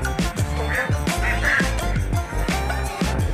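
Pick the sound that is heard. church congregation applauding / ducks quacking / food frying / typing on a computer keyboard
ducks quacking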